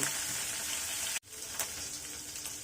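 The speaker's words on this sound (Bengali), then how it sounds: "একইভাবে অন্য পাশটাও ফ্রাই করে নিব" Tengra fish shallow-frying in hot oil give a steady, bright sizzle that breaks off abruptly for a moment, then resumes slightly softer with a small pop, all close by with no talking.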